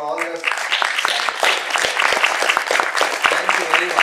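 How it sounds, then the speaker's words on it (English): A conference audience gives a full round of applause. The clapping is dense and sustained throughout, and a speaking voice overlaps it at the start. "let's have one round of applause for all the"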